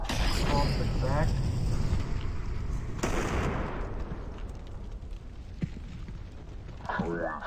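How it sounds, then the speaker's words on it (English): A grenade is thrown and explodes in CS:GO on the Mirage map. A broad, loud blast lands mid-round over continuous game noise, with voices heard briefly. "Grenade out! Throwing a grenade!"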